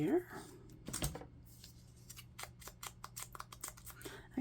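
Scissors trimming paper for a handmade folio: a quick series of crisp snips and light paper rustles, close and fairly quiet, with a voice briefly heard.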